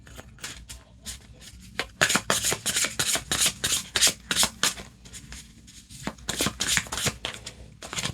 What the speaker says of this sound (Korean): 추가 카드 좀 한번 뽑아볼게요.